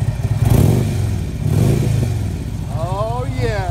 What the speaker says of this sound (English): Take a listen to this motor.